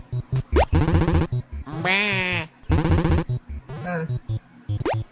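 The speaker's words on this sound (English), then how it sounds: "I like the sheep sound effects" Repeated loud, close sheep bleats in quick succession, some long and wavering, with bouncy game-like sound effects between them, from a Bible-themed video game.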